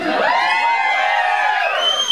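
An audience at a birthday celebration screams and cheers loudly, a dense sustained roar of high whooping voices that holds for the whole stretch before starting to fade.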